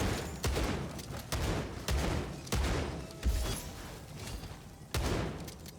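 Shotgun blasts in MW3 Zombies, a steady series of about ten heavy, booming shots spaced roughly half a second apart, close and loud, with no talking.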